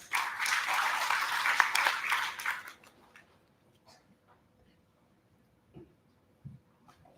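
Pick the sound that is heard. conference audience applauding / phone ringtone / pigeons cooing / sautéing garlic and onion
conference audience applauding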